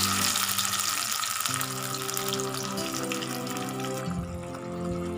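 Ground masala paste frying in hot oil for a broken-egg curry, with a steady broadband sizzle and hiss that fills the clip, plus low clattering and a faint hum, loud and close with no talk.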